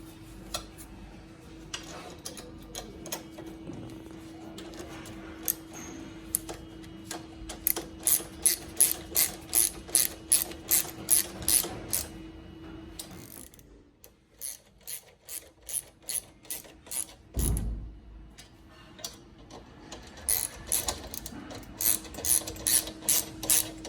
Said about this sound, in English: 10mm wrench on the inside, 8mm socket on the outside. And pull them snug, do not torque them yet, just pull them snug, all 4.